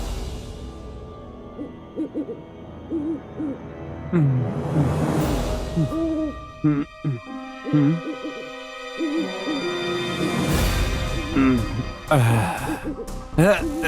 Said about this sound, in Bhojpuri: उल्लू के रोए की आवाज आवता।